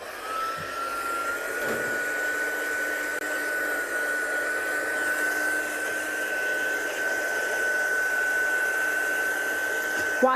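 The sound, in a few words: hair dryer drying it off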